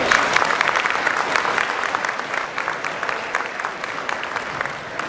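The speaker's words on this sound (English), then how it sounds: "let's one more time give them a good round of applause" A crowd at the 2018 Cabarrus County Sports Hall of Fame induction claps in a sustained round of applause, with dense, even clapping throughout.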